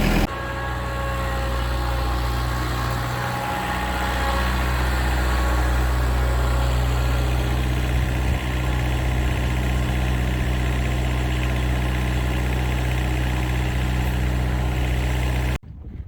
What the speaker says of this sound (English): Oh, I love this thing. Well, let's pull her out.